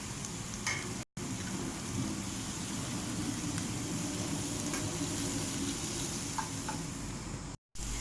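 Onion, ginger and garlic sauté in melted butter in a pan, giving a steady, soft, even sizzle heard close up with no voices. The sound cuts out for two brief gaps.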